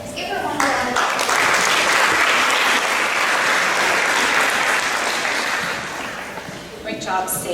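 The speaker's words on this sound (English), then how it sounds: "Let's give her one round of applause." A room full of people at a school board meeting clapping steadily for a second round of applause, loud and sustained before tapering off near the end.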